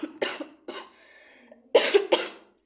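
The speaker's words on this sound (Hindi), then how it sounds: "रियली सॉरी, मुझे खांसी आ गई।" Several harsh coughs in two bursts, a pair early on and a louder pair after a short pause, close and clear with no talking.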